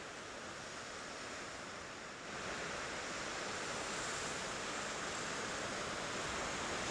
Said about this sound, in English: we really got some waves coming in